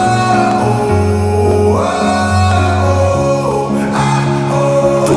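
Dense, loud song outro with layered strings and piano holding shifting sustained chords, plus a wordless vocal line weaving through.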